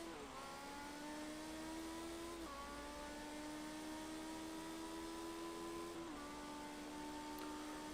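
A classic Lotus Formula 1 race car in yellow livery accelerates hard out of a final corner, its engine note climbing in long steady sweeps with two quick downshift breaks, heard continuously from a moderate distance at trackside.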